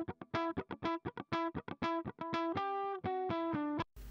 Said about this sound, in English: Here we have a guitar, dry,